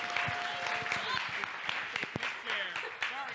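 Audience applause at a closing ceremony, a dense steady clapping that runs the full length at moderate loudness, with people talking and calling out over it.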